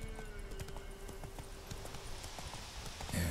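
Roach the horse trotting in The Witcher 3, a steady clip-clop of hooves with a faint tonal hum underneath and a louder burst at the very end.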